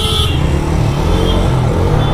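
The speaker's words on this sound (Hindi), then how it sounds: "अगर आप एग्जॉस्ट साउंड अगर आप सुनते हो ना, तो भाई क्या गजब का आपको यहाँ पे ना एग्जॉस्ट साउंड निकल कर आने वाला है" Bajaj Freedom 125 CNG motorcycle exhaust while riding in traffic, a steady close engine drone with wind rush and no speech.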